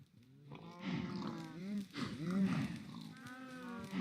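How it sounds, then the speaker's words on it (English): Several cows on a farm in the video game Minecraft, giving a run of low, drawn-out moos one after another at moderate volume, with a voice talking faintly underneath. "That's a lot of cows and pigs in there."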